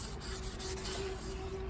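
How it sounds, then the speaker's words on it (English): A worker wet-sands the edges of a VW Rabbit's car body by hand, producing a steady close rubbing rasp with a faint tonal hum beneath it and no speech. "I'm gonna hit these edges with light sanding by hand, but I'm also wet sanding"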